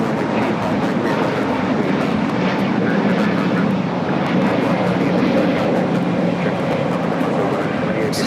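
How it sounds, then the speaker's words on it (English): A Volare Airbus A320neo jet takes off at LAX, a steady, loud broadband engine roar holding throughout, with faint radio chatter and talk underneath. "This is Volare 7855 taking off to Aguascalientes on the A320neo"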